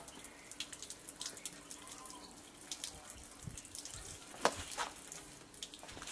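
A window is rinsed with a water-fed pole brush, giving soft, faint splashing and trickling water with scattered drips and small bursts, steady and low in level.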